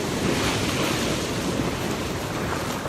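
Ocean waves and surf break steadily on a rocky shore at low tide, a loud continuous wash with wind noise buffeting the microphone and no voices.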